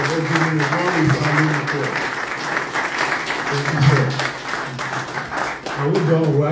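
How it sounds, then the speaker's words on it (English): An audience at a meet-and-greet event in Toronto applauds steadily while voices talk over the clapping throughout. "Put your hands together."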